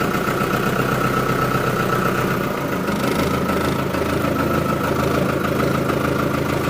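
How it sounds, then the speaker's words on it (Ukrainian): A cold Lovol 504 tractor engine idles steadily and loudly, a continuous low rumble with a faint knocking texture throughout. "Якщо почуєте, звук трактора."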